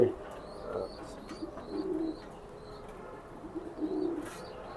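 Racing pigeons in cages giving soft, low, repeated coos in a few short bursts, fairly close and quiet against a calm background with light chirps.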